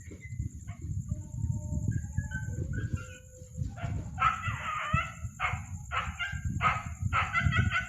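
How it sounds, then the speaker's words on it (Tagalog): A dog barks repeatedly at a distance outdoors at night, sharp yelps clustering in the second half over a low rumbling background, with faint bird or rooster calls and no talk. "may aso na po kumakol dito."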